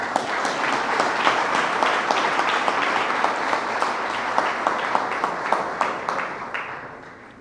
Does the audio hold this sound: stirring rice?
no